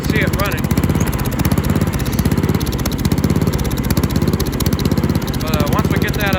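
A Murray racing mower engine runs loud and close at a steady, rough, rapidly pulsing idle throughout, with someone talking over it.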